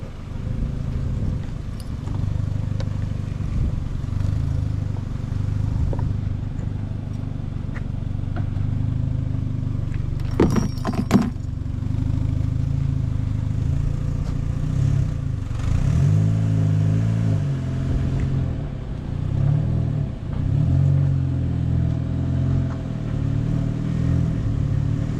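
A car engine labors and revs steadily while dragging a seized trailer at a vanlife festival, with rising and falling bursts of throttle and a brief clatter midway, fairly close and continuous throughout.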